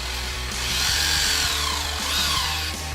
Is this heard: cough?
no